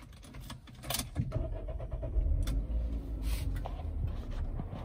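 A key goes into an MG ZS 1.5 VTi-TECH and the engine turns over and starts, with brief clicks and mechanical clunks before a low engine rumble settles in close by.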